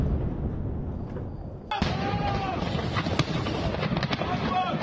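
Israeli airstrikes on Beirut at night set off a sudden heavy blast followed by a series of sharp cracks and booms echoing over a rumbling city background, some near and some distant.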